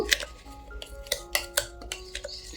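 Metal spoon scraping and clinking against a steel mixer jar while scooping out a ground, oily mixture, with a series of sharp taps and rattles in an irregular rhythm, close up.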